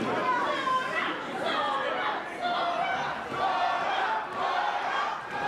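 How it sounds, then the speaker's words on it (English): A wrestling crowd at a women's tag team match cheers and chatters loudly for Laura James, a dense wash of many voices that swells and dips without letup. "Crowd really getting behind Laura."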